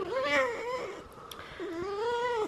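A distressed cat moans and cries in two long, wavering yowls, close and fairly loud, with a short pause between them and no talking.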